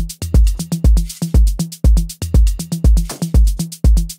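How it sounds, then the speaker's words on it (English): An Afro House drum pattern with a one-hit shaker loops: punchy kicks and snappy hits in a fast, even groove, with bright shaker ticks layered on top, loud and close, no voices. "this kind of one hit shaker at the end here, which sounds like this with the other drums"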